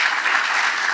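A conference audience claps in a steady, dense burst of applause, loud and continuous throughout.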